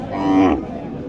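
At a cattle market in Naogaon, a cow gives one short, loud, nearby moo that swells and fades within about half a second, over faint market background.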